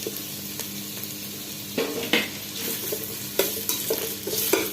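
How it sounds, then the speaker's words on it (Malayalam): Sliced onion frying in ghee and oil for chicken biryani, a steady close sizzle broken by several scraping stirs of a spoon against the pan, no voices. "കുറച്ച് ലേശം സവാള ഈ എണ്ണയിലൊന്ന് മൂപ്പിച്ച് കോരാം"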